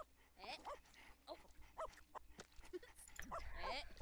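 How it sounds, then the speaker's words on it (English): A dog in The Sims 4 gives short yips, barks and whimpers in quick succession over a faint game background, with a voice talking at times. "And there's a dog."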